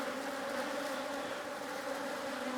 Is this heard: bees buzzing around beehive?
yes